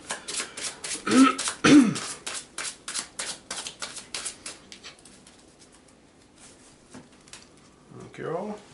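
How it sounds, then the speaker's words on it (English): A deck of cards being shuffled at a Commander (EDH) Magic: The Gathering table: a run of quick, rhythmic riffling bursts close by, then fading, with brief talk near the end. "Getting tired of all the shuffling."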